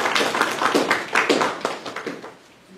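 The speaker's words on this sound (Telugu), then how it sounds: "మీకు ఇబ్బంది లేకపోతే ఒక్కసారి మన క్లాప్." Congregation clapping together at an Easter church service, a quick run of close, sharp claps that thins out and fades at the end.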